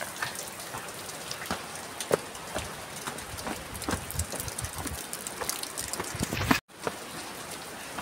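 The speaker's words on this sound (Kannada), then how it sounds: "ಇಲ್ಲೊಂದು ಫಾಲ್ಸ್ ಸೌಂಡ್ ಬೇರೆ ಕೇಳಿಸ್ತೈತೆ ಕಿವಿಗೆ" Heavy rain pours at Harishchandragad fort in Maharashtra, a steady hissing wash with scattered close drips and splashes and a faint distant waterfall roar beneath, ending in a brief dropout.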